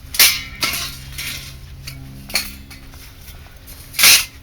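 Metal parts of a camping stove clink and knock together as it is taken apart after coming off a fire, a few sharp metallic clinks spaced out, the loudest near the end.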